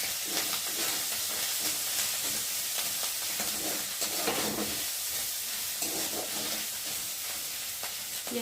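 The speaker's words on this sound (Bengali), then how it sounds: "আর দিয়ে দেবো এই যে পেঁয়াজ কুচি। ভালো করে নেড়ে দেবো।" Chopped onions sizzle in a pan while being stirred, making a steady, moderate hiss with soft scraping movements and no talking.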